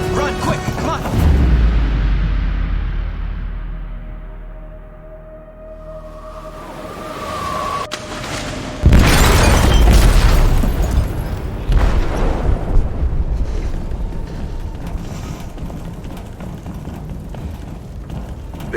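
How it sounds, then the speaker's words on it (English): An explosive detonates in a ship's hold in Detroit: Become Human, a deep rumbling boom that swells and fades, then a second heavy blast erupting into a long roaring, crashing tail, with shouting voices around it. "They detonated an explosive in the hold. The ship is sinking, sir."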